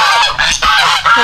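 Geese honk loudly and close by in a rapid, overlapping series of harsh calls with brief pauses between bursts.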